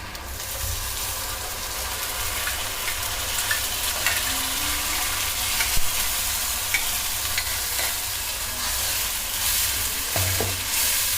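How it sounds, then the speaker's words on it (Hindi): Tomato puree for restaurant-style dal makhani hits a hot pan and sizzles steadily while being stirred, a continuous close frying hiss with occasional spoon scrapes and no talking. "अब टमाटर, 4 टमाटर की प्यूरी डाल देंगे इसमें हम।"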